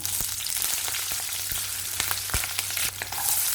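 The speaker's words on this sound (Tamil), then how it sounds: "கடாய் வச்சுட்டு தேவையான அளவு நல்லெண்ணெய் எண்ணெய் காய்ஞ்சதும் உளுந்து சீரகம் காரத்துக்கு தகுந்த மாதிரி பச்சை மிளகாய்" Urad dal, cumin and green chili sputter in hot sesame oil in a kadai, a dense continuous sizzle broken by sharp pops and crackles, close and without speech.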